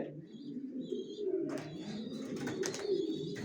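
Young racer pigeons coo steadily at close range in a low continuous murmur, joined midway by scattered higher rustling and flapping sounds.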